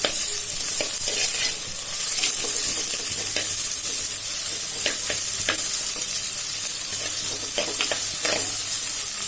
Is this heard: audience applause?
no